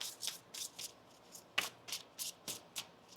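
Tarot cards are shuffled by hand in a quiet room: a string of about nine short, crisp riffling bursts at a steady pace, close and fairly soft, with one sharper slap near the middle.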